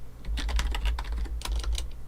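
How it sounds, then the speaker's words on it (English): Rapid typing on a computer keyboard, a steady run of close, light key clicks with a low hum underneath and no speech. "my typing leaves something to be desired this morning"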